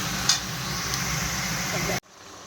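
Turmeric, chilli powder and cumin-coriander powder sizzle steadily in a pan for a Bengali-style home chicken curry, a close, even frying hiss that stops abruptly near the end.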